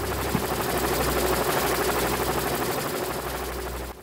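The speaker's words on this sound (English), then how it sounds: "The average Roblox helicopter." Helicopter in the Roblox video game, a loud steady rotor and engine drone running continuously for about four seconds, no talking, cutting off abruptly at the end.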